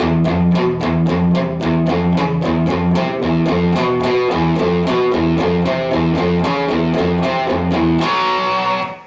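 A distorted electric guitar chugs a fast, steady riff of evenly hammered notes, loud and driving, ending with a ringing chord.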